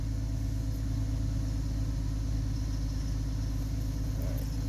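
A car engine idles steadily after a cold start, a dense, even rumble with no breaks and no talk over it.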